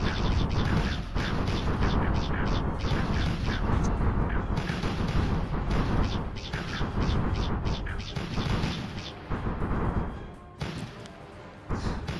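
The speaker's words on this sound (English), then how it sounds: "Artillery's not cool when it's used against me." Artillery fire in the real-time strategy game Rusted Warfare: a dense, continuous barrage of overlapping booms and crashes that stays loud throughout, with a brief dip near the end.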